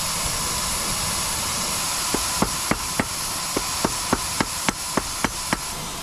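A hammer strikes a heated steel file on an anvil to taper its end, about a dozen sharp, evenly spaced blows over a steady roaring hiss from a forge.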